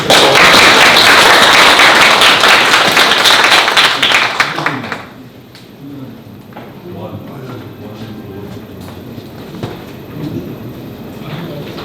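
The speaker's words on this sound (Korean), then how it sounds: "일단 박수를 한번 보내면" Lecture audience applauding at the end of a memorial talk on the 5·18 Democratization Movement, dense loud clapping for about five seconds that then drops away to quiet room noise with scattered soft sounds and murmuring.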